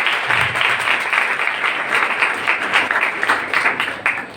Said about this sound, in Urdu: زوردار تالیاں ہو جائے اس بات کی.